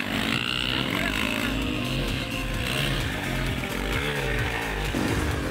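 A motocross bike races around a backyard track behind Fox Head's global headquarters, its engine buzzing loud and continuous with rising and falling revs throughout.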